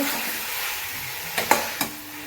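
Curry being stir-fried with cardamom, cloves and cinnamon in a pan, giving a continuous hissing sizzle with a few sharp clicks of the spatula near the end.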